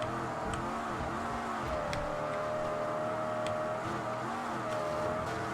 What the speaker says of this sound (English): now the car's nice and loud like it's supposed to be